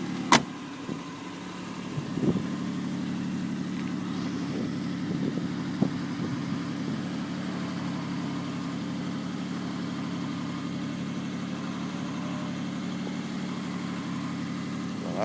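A Citroën SM idles steadily with a low, even engine hum while its hydropneumatic suspension is raised, a sharp click near the start and a few faint knocks over the constant drone, no talking.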